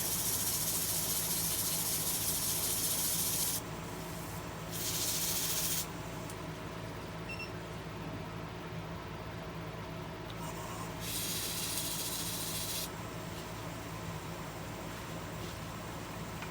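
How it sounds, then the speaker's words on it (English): Steady hiss of 320-grit sandpaper against wood spinning on a lathe, with brighter bursts of friction noise coming and going over a constant machine hum. "Just a little bit of sanding here."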